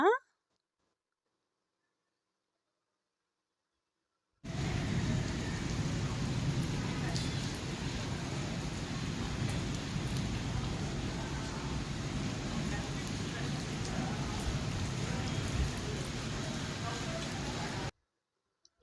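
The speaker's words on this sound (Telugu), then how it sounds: "ఆ తర్వాత ఒక అరగంట మాత్రం వర్షం పడిందండి. కొంచెం బాగా పడింది." Rain falling fairly hard after many hot days, a dense steady patter that starts after four seconds of silence and keeps an even level for about thirteen seconds before cutting off.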